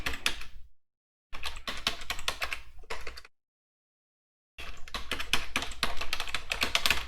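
A username is tapped out on a computer keyboard in quick bursts of close, crisp keystrokes, with two short pauses between the runs of typing and no voices.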